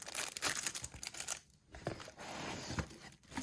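Packaging for a Lekato star projector is unboxed close up, with quiet tearing, crinkling and rustling of paper and plastic in short bursts and brief pauses, without speech.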